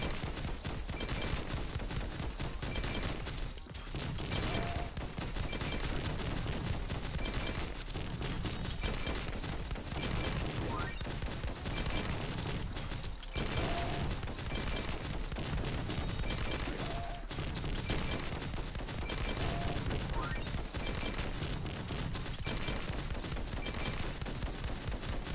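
Dense gunfire in the shooter game X Invaders: rapid, continuous bursts of shots and blasts, loud and unbroken for the whole stretch, with no voices over them.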